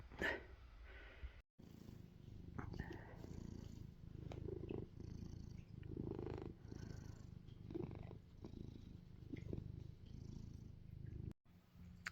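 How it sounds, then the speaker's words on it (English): A foster cat purrs steadily and close up, a low continuous rumbling drone with rhythmic breathing pulses that carries on throughout, briefly dropping out near the start and end. "Meet my newest foster cat, Walter."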